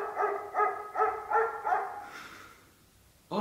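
A dog-barking sound effect played by a voice assistant gives five rhythmic, evenly spaced barks, moderately loud, then a fading tail and an abrupt cut.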